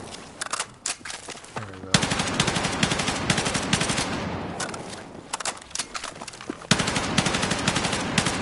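M277 carbine fire in Battlefield 6 comes as loud, rapid automatic bursts, a few short strings followed by long sustained sprays, with someone briefly talking between them.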